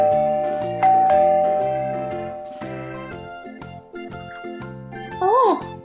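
Doorbell rung at a front door in the Peppa Pig cartoon, a series of tinkling chime tones sounding one after another with musical accompaniment and a brief cartoon voice near the end.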